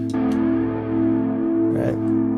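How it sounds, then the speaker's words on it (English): Electric guitar played through an amp-like unit switched to its distortion channel, giving a loud, saturated sustained tone with steady harmonics and a fresh picked attack partway through, heard alone. "Then I go to distortion."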